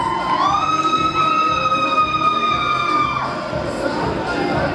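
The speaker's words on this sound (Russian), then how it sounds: "Ваши аплодисменты еще раз." Audience at the Miss BashGU 2019 beauty pageant grand final applauding and cheering a runner-up: a dense, loud roar of clapping and shouts with a sustained high whooping tone over it, staying steady throughout.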